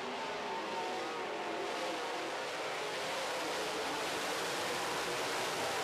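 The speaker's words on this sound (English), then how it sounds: "Dustin Wall trying to get his modified straight down the front straightaway" Modified race cars, including a big Ford, battle three wide through the turns and down the front straightaway in a heat race, a steady broadband roar of engines blending into one continuous wash of noise with no talk.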